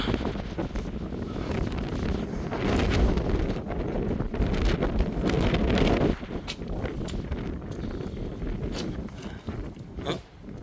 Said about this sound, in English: I do apologise about the wind.